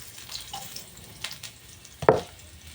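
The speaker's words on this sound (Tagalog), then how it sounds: "gisahin muna natin yung bawang at tsaka sibuyas" Garlic and onion sauté in a pan for lechon paksiw, a soft close sizzle with a brief clatter of stirring near the end.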